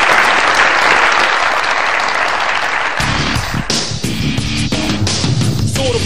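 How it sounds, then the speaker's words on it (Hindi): Loud, dense studio audience applause on a television comedy show, continuous throughout while background music swells in under it halfway through. "बहुत सारी तालियां शर्मीन उबैद के लिए।"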